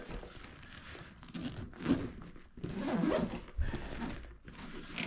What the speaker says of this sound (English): zips that up perfectly